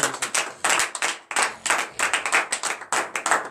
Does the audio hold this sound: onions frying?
no